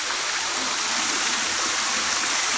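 Steady rushing of a flowing stream near a temple kund at Dharkundi Ashram in Satna, water running continuously and fairly loud throughout with no voices.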